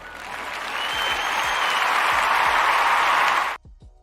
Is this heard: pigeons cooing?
no